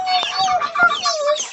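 Young chicks at a small farm give a string of high, bright peeps and chirps, several quick calls in a row close to the listener, with no talk over them.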